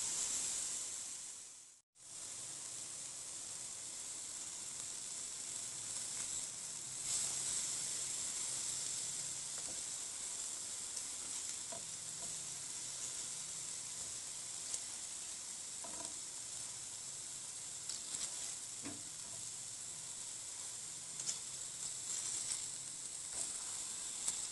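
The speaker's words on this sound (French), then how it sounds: "Je mets le couvercle, je les laisse cuire pendant quelques minutes." Fish cooks in a covered pan without frying oil, giving a steady, soft sizzling hiss throughout with a brief cut near the start and faint occasional pops.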